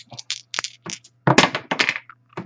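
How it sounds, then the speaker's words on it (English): Dice rolled for a baseball card break game clatter across a board in several quick bursts of sharp cracks and knocks, close and fairly loud, with brief pauses between tumbles. "All right, gonna roll the dice."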